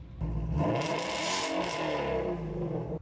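A car engine revs hard and loud, its whining roar rising and holding steady for a few seconds.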